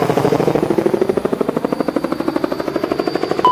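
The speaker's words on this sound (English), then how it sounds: "I need to let that helicopter pass." A helicopter passes overhead with a loud, rapid rotor chop. The regular thumping beat runs close and strong through the whole clip while the engine pitch slowly shifts.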